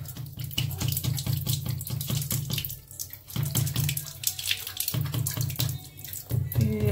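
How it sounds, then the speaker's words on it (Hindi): Water gushes steadily from an RO UV water purifier in reverse flow, a loud continuous splashing stream close by with a low hum underneath throughout. "अब इसका उल्टा डायरेक्शन से पानी निकल रहा है"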